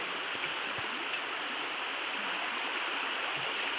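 A stream runs with plenty of water, a steady close rush of flowing water that stays even and unbroken throughout with no voices.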